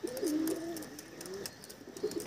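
Desi pigeons in a loft give soft, close cooing: a rolling coo near the start, a longer drawn-out one in the middle and another short burst at the end, over quiet background rustle.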